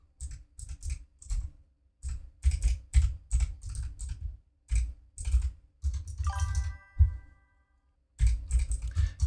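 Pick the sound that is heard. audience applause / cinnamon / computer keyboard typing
computer keyboard typing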